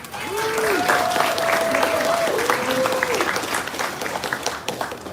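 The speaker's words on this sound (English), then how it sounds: "Let's give another round of applause for String Theater." Applause rolls through the audience at the reopening ceremony of the Franklin Square PATCO station, a thick steady clapping crowd with a voice talking over it.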